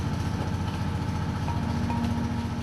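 The engine of a small fishing boat that is taking on water runs steadily, with a continuous low throbbing rumble, close and even, and no voices over it.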